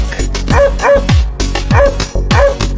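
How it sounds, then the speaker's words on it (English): A dog barks four times in a steady, evenly spaced rhythm, each bark loud, sharp and close, with a faint tonal note ringing beside it. "dog."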